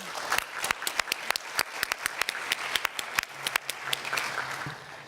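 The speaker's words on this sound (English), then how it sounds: "please give a large hand of applause to this distinguished panel" Audience applause for a trade panel at a global forum, with dense clapping throughout, close and moderately loud, and sharp individual claps standing out above the crowd.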